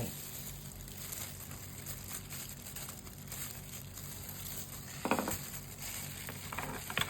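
Coconut milk pours into a soybean mixture in a bowl with a soft, steady liquid rush, close and quiet, followed by a brief splashy burst near the end.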